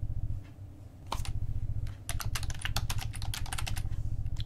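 Password being typed on a computer keyboard during a Hackintosh El Capitan install on a mini ITX build, a brisk run of close, crisp key clicks over a steady low hum after a brief pause.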